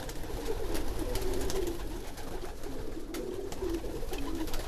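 Breeding pigeons at the nest cooing in repeated low rolling phrases amid scuffling and flapping, close up over a steady background hiss.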